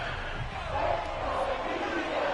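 A stadium crowd in a football video game with a 1980 roster, a steady loud roar that fills the whole stretch without a break, and a voice is faintly present under it.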